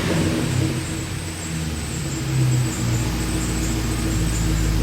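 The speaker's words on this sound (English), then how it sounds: "I wonder what it sounds like on the rev limiter." A Chevrolet Caprice hot rod's engine holds high revs against the rev limiter, a steady droning mechanical roar with slight surges, heard close and without talk.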